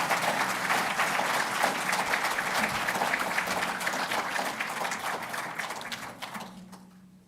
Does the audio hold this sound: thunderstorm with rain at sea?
no